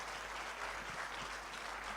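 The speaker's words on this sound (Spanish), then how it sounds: "vamos a darle fuertes palmas al Rey de Reyes y Señores" A church congregation at an adolescents' worship service claps loudly together, a dense sustained burst of applause from a large crowd.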